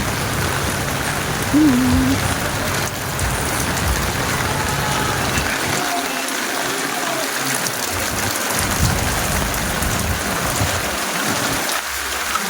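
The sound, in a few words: heavy rain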